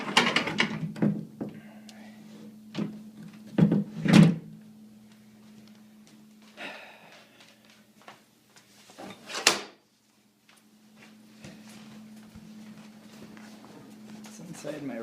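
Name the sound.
doors being shut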